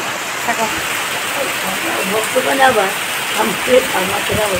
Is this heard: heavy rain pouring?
yes